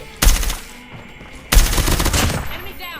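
Gunfire in the mobile shooter Call of Duty Mobile comes as two loud, close bursts of rapid automatic shots, one short and one longer, with quieter gaps between them.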